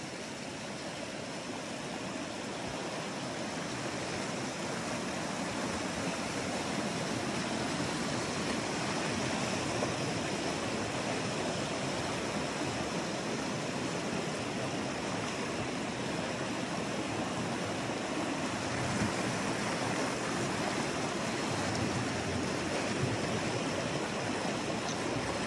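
River water rushes without a break at a stream crossing in Exmoor, a dense, even broadband wash that stays close and loud for the whole stretch, with no voices.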